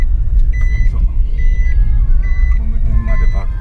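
A Mitsubishi i-MiEV electric car with a gated shift lever reverses at low speed, with a steady low rumble and repeated high reversing beeps. People talk over it.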